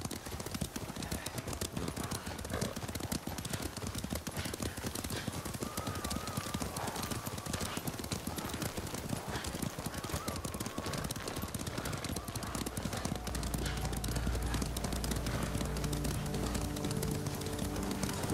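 Horses' hooves clip-clop in the video game Ghost of Tsushima, a steady rhythmic stepping over continuous ambient game sound and music, with no talk.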